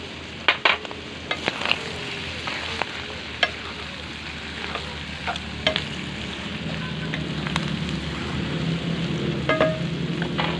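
Pork intestines and chicken innards sizzle and fry steadily in a pan, with scattered clicks and scrapes of stirring near the start, and the sizzle grows fuller toward the end.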